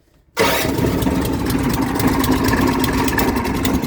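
A small engine with its choke cable removed cranks over quickly and catches, then runs steadily and loudly close by after a short silent start, with no talking.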